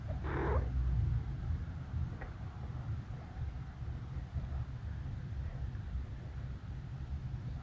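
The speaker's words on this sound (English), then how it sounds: "As usual, the cat is sleeping." A sleeping cat purrs softly and continuously close by, a low rumbling drone in a quiet indoor room, with a brief rustle near the start.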